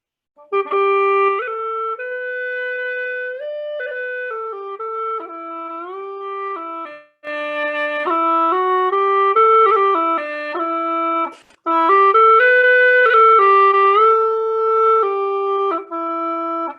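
A Chinese bamboo reed mouth organ with metal reeds inside its pipes plays a slow melody of sustained, reedy chords, with brief breaths between phrases and no talking.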